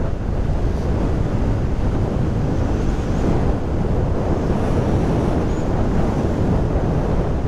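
Strong wind roar buffets the microphone on a BMW R1250R SE 2022 motorcycle under acceleration: a loud, steady broadband rush that masks any engine note, with no talking.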